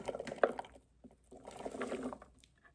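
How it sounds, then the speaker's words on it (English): Cooked chickpeas tipped into a food processor for homemade hummus, making two soft, close bursts of wet tumbling and squishing with a short pause between them. "I'm going to add my chickpeas in 2 batches."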